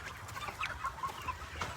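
Chickens cluck and murmur steadily inside a chicken farm house, a dense chorus of short calls at moderate distance with no talking.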